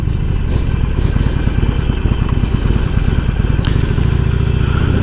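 A Harley-Davidson Sportster motorcycle engine runs at idle close by, a loud, continuous throbbing rumble with rapid rhythmic pulses and mechanical clatter, heard throughout with no talking.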